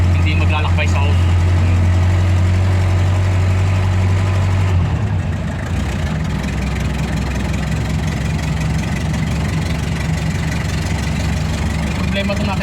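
An engine runs steadily at a water flow installation by a waterfall, a heavy low hum that drops slightly in pitch after about five seconds and continues under people talking.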